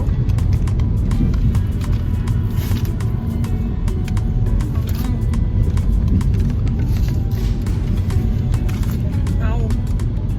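A car driving: a steady low engine and road rumble fills the cabin throughout, with people talking over it.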